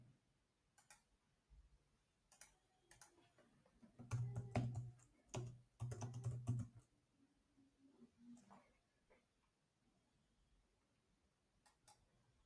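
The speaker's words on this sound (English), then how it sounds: "and start typing." Sparse keystrokes on a computer keyboard while entering text with spell check on, single clicks spaced apart and a denser, louder burst of key taps in the middle, fairly faint overall.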